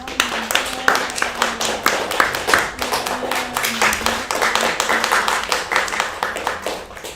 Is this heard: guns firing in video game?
no